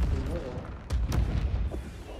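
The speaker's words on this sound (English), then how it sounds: "No, it's just fireworks." Fireworks bursting in Marvel's Spider-Man 2 video game, a few sharp booms and pops standing out over a busy, rumbling game soundscape with voices talking.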